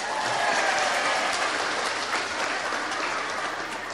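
Sustained audience applause in a hall during an Islamic sermon by a female preacher on Eid al-Adha sacrificial meat, a dense steady wash of clapping at even loudness for the whole stretch with no talk over it.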